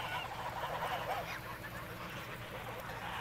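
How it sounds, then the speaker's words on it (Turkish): A flock of domestic geese grazing near a wetland honks in a continuous overlapping chorus, moderately close and fairly loud, with a faint voice or two mixed in beneath. "Abimiz kazlarını böyle otlatmaya çıkarmış."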